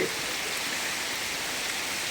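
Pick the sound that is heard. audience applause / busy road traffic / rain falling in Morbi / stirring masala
rain falling in Morbi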